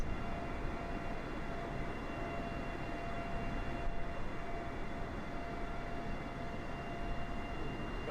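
Steady broadband aircraft engine drone in Microsoft Flight Simulator, a continuous even roar with faint tonal hum, constant loudness throughout with no talk.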